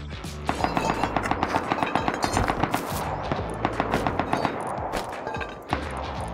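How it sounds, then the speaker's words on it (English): Rapid gunfire in the survival game Rust, dense volleys of shots crackling almost without pause for several seconds, loud and sustained, with no talking. "There's a lot of shots going off."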